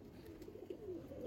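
Silver-necked pigeon gives a soft, low coo over faint background hiss, close but quiet and brief.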